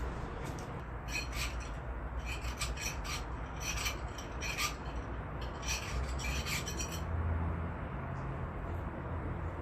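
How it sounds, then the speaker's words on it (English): A chainsaw file rasps steadily against a small carburetor part for a 50cc moto carburetor, a continuous close scraping texture with repeated bright strokes through most of the clip. "Take my chainsaw file here."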